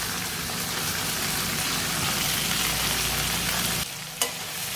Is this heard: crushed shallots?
yes